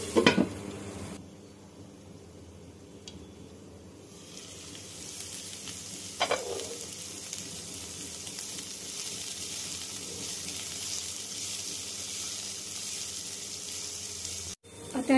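Chopped onions fry for an egg masala curry, a constant soft sizzling hiss in a pan broken by a few scraping stirs, fairly quiet and close with no talking.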